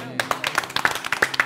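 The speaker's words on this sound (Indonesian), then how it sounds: "Sukses selalu. Tepuk tangan." Quick, rhythmic hand clapping from a small group at a studio-style show, steady and close, with voices mixed in over the claps.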